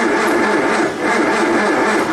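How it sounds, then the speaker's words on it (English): Starter cranking over a 1963 Triumph TR4 engine that has sat for ten years, a steady, continuous whirring churn with a fast repeating pulse, loud and close, with no break. "Let's crank it over."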